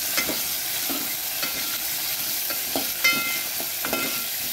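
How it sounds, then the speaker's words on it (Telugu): Torn red chillies and cumin seeds fry in a pan, making a continuous sizzle broken by repeated clinks and scrapes of a stirring spoon, heard up close with no talking. "మేమైతే ఇప్పుడు మిరపకాయలు వేసుకున్నాం కదా తుంపి. కొంచెం వేగనిద్దాం."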